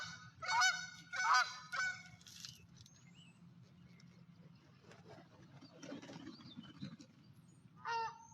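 A turkey chasing another bird outdoors, loud honking gobble-like calls in several bursts at the start, then quieter rustling and scattered calls with a faint voice nearby.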